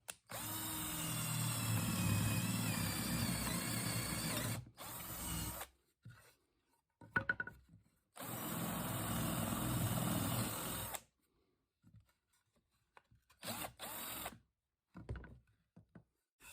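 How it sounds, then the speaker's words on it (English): A power drill boring a hole in a table saw insert whirs in two sustained bursts of several seconds each, separated by brief clicks and handling noises, close and fairly quiet, with no talking. "So I'm just going to drill this right there."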